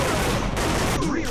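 Loud machine gun fire from the Time Crisis arcade shooter, played on a PS1 emulator, runs as a continuous, dense rattle for the whole short stretch.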